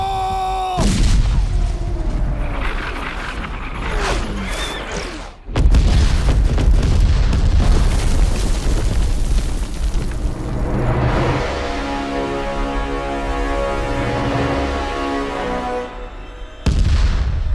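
Loud, repeated cannon artillery booms and explosions in a battle scene, heavy blasts in quick succession with rumbling decay, briefly cutting out before resuming.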